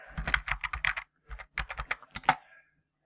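Keys clatter on a computer keyboard as a search is typed: quick bursts of close, crisp taps, then a pause and two more short runs of typing.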